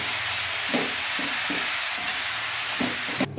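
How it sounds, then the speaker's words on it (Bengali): Food fries slowly in a pan with a steady, soft sizzle, broken now and then by faint stirring scrapes and taps. "ভালো করে এখন আস্তে আস্তে ভাজলে পুরো নরম হয়ে যাবে"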